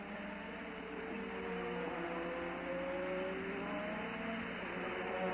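McLaren Formula 1 car from 1987 at the Japanese Grand Prix at Suzuka, its engine a steady high whine with rising pitch sweeps as it accelerates, held continuously over race-track ambience without talk.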